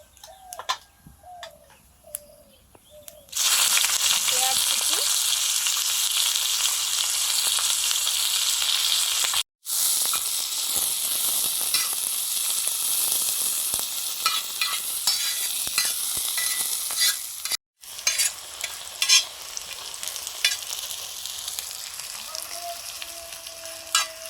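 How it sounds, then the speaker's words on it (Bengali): Dried red chillies, whole cumin and whole garam masala sizzle and crackle loudly in hot mustard oil, a steady continuous frying hiss broken by two brief gaps, with light ticking spatters throughout and no talk. "সর্ষের তেল দিয়ে ফোড়ন দিলাম শুকনো লঙ্কা গোটা জিরে গোটা গরম মশলা"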